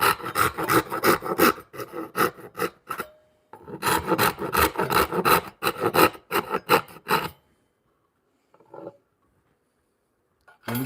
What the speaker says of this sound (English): I'm going to use the rip cut side here